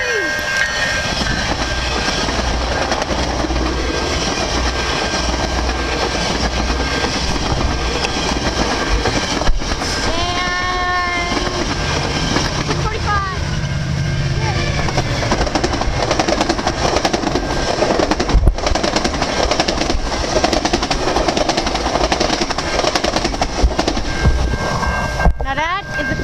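A train runs close by at a railfanning spot, a loud continuous roar of rail noise and rolling wagons filling the whole stretch, with a brief squealing tone partway through.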